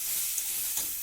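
Turmeric stirred into hot oil in a pan for a green mango curry gives a steady close sizzle with two faint spoon scrapes.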